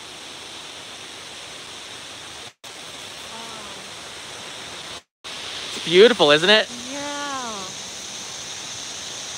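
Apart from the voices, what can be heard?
Shiraito Waterfall at Mount Fuji, Fujinomiya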